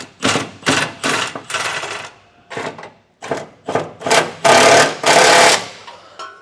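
Hitch bolts under a vehicle snugged down with a 24mm socket and wrench while installing a B and W Turnoverball underbed gooseneck trailer hitch, heard as a close, loud series of rapid ratcheting bursts separated by short pauses.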